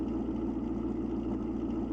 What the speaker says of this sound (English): let's jump in and see what this supercharged V8 sounds like in this Ford Bronco.